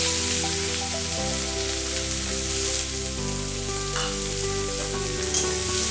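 Chopped onion and jackfruit seeds frying in oil in a pan: a continuous crackling sizzle under a steady musical backing with sustained tones that shift in pitch, no talking.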